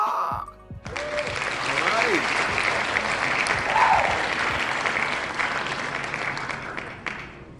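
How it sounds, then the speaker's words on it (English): Sustained applause from a crowd gathered for a giveaway winners announcement, a dense steady wash of clapping with a few cheers and voices mixed in, running nearly the whole time before tapering off at the end. "I appreciate the applause."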